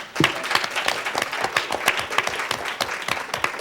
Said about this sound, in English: you can applaud that as well